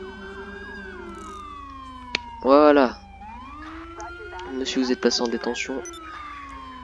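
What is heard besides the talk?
police car sirens in LSPDFR police video game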